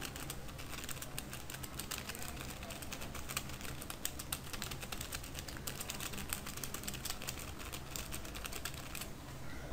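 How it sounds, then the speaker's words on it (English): Steady, rapid clicking of keys on a computer keyboard, faint and continuous, with no pauses in the tapping. "I can start typing with my computer keyboard."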